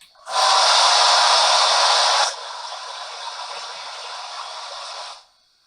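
Blow-down hiss from a Bachmann Spectrum K4 PRR 4-6-2 model locomotive, a loud broadband rush of steam for about two seconds that drops to a softer sustained hiss before stopping, with no other sound.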